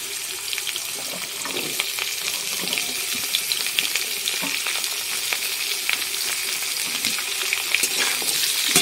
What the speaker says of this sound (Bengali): এবার কেটে রাখা পেঁপে, আলু, গাজর সব ছেড়ে দেবো এর ভিতরে।